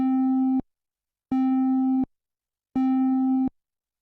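A buzzy synthesizer tone, eight detuned triangle-wave voices, plays three identical held notes, each lasting under a second with silent gaps between, sounding clean and slightly thick.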